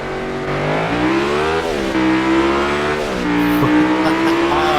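Race cars on a speedway racetrack, loud, close engine roar with layered tones rising and falling as the cars rev and accelerate, continuous throughout.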